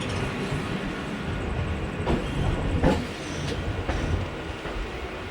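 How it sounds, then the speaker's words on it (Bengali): A train moving slowly gives a steady close rumble with occasional wheel clicks and faint squeals, continuous throughout. "ট্রেন এখন যথেষ্ট স্লো আছে"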